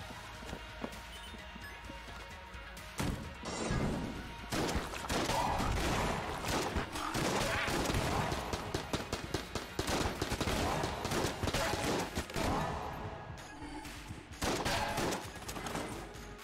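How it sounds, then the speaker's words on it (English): Enemies shooting bullets in the video game Enter the Gungeon: dense, rapid bursts of gunfire crackle almost nonstop over several seconds after a quieter start, loud and busy. "I know you like shooting bullets, but I really don't like it when you shoot bullets"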